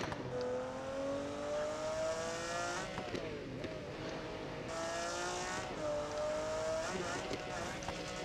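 A McLaren F1 in BeamNG accelerates up to speed, the engine note climbing repeatedly through gear changes with brief dips between pulls, loud and close throughout.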